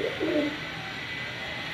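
Pigeons of rare old breeds cooing nearby in a loft, a soft low warble near the start that fades into steady background noise.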